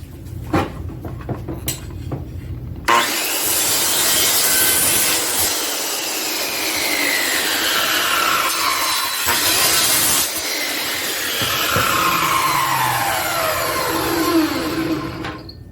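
A circular saw roars through wood in one long, loud cut that wavers in pitch, preceded by a few seconds of quieter rustling and clatter.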